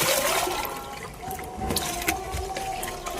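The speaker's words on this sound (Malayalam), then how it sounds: "ഇതിലേക്ക് ഞാൻ എന്താ രണ്ട് കപ്പ് വെള്ളമാണ് ഒഴിച്ചു കൊടുക്കുന്നത്" Two cups of water poured into plant fertilizer, a steady watery splash and trickle running close and fairly loud, with no one talking over it.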